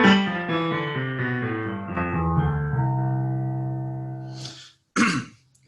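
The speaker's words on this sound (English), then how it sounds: "So notes on the bass clef sound like this." Low notes in the bass clef range step downward one after another, ending on a long sustained tone. Near the end they give way to a couple of short throat-clearing or cough-like noises.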